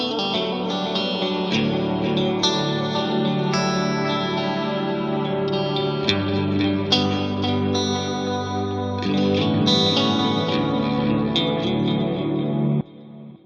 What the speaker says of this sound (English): Let's add the delay.